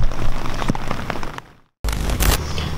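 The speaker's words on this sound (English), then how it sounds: "First wave of rain. We already have water seeping into my tent." Rain patters steadily on a camping tent that is already letting water seep inside. The hiss is close and dense, cuts out for a moment, then comes back with heavier splashes.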